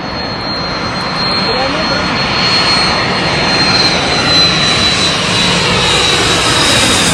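A passenger airplane landing at Kozhikode airport, heard from behind the airport as a loud, steady roar of jet engines that swells slightly midway, close and dominant, with a voice speaking faintly beneath it.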